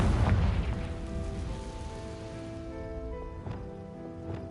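A Confringo fire spell goes off in Hogwarts Legacy, a loud booming burst at the start that rumbles and crackles away, then a second sharper blast near the end over a steady tonal game hum.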